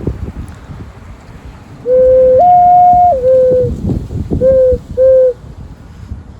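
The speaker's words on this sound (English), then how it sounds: "Next is my ocarina." Clear, pure whistle-like tones from an ocarina play a short, slow melody of held notes, over steady outdoor wind noise.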